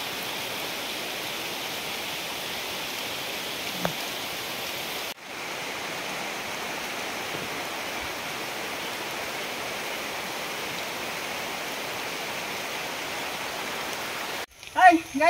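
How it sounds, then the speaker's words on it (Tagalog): Steady broadband rain falls during a saba (cardava) banana harvest outdoors, a constant hiss continuing for most of the stretch, with a short break partway through and a few louder handling knocks near the end. "Inabot na kami ng ulan."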